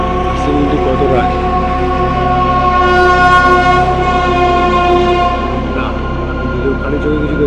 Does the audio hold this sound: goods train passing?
yes